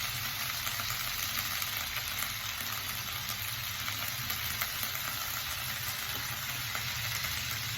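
Onion sautéing in a pan for a drumstick-leaf chutney, a steady, dense sizzle and crackle of frying throughout with faint stirring, even and close, no voices.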